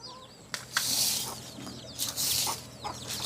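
A chicken clucks nearby in a rural home setting, giving a few sharp, bright clucks in quick bursts over a low, steady background hum.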